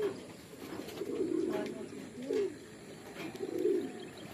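Racing pigeons coo in low, throaty bursts that swell and fade across the clip, with faint background ambience and no speech.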